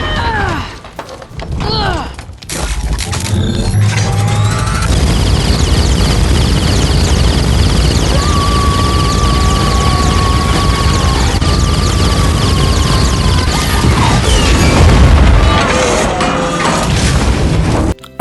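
Gamora fires a heavy weapon during her battle with Nebula in Guardians of the Galaxy Vol. 2. Loud, booming blasts and crashes run continuously for most of the scene, dense with mechanical clatter and whooshing effects.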